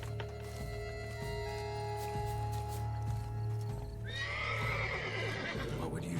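Horse in The Witcher 3 game: hooves clip-clopping in a steady rhythm under a low musical drone, then a loud, close whinny breaks out near the end.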